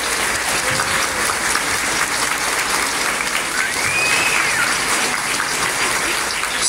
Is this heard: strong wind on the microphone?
no